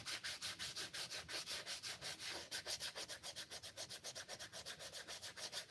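Someone sands a wooden mallet by hand to take off marks, making close, rhythmic back-and-forth rasping strokes at an even, quick pace.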